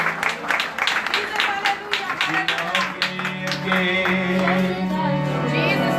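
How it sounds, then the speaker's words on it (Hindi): Enthusiastic clapping from a group at outdoor street worship in Ludhiana, mixed with voices and shouting, a lively burst of applause under ongoing vocal sound. "जोरदार ताली, जोरदार ताली।"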